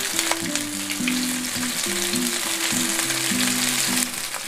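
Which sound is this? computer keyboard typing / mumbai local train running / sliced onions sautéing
sliced onions sautéing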